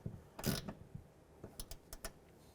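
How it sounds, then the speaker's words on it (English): A hand ratchet tightens 10mm bolts inside the front fender well of a 2001-2007 Ford Escape during a radiator cooling fan replacement. A few quiet, close clicking bursts are spaced apart in a faint, otherwise still workspace. "We're going to come back and tighten up these 10mm bolts."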